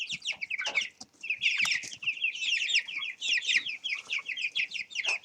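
Young chickens in a crowded brooder that they are outgrowing, peeping and clucking in dense, overlapping bursts of high chirps that run continuously and close by, with no talking.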